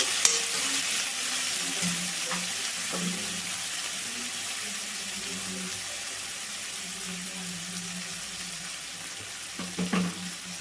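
Moong dal fries in a pan with a soft, steady hiss, stirred now and then with light scraping, the sound continuous and fairly close with no talking.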